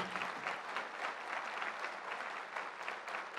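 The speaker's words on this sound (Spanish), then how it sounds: "El aplauso para ellos." Steady applause from a large crowd at an award ceremony, sustained and fairly distant, with no voices standing out.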